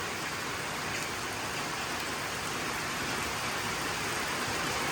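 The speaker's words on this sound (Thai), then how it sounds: "ฝนก็ตกหนักเนาะ" Heavy rain pours steadily in a dense, unbroken hiss that stays loud and even throughout, with no voices.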